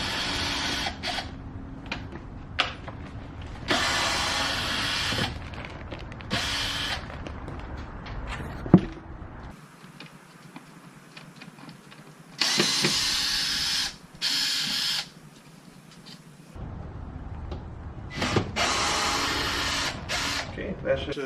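A Phillips screwdriver works the screws on the air box cover of a sixth-generation Camaro, giving close, intermittent scraping and ratcheting bursts with one sharp click midway and brief pauses between turns.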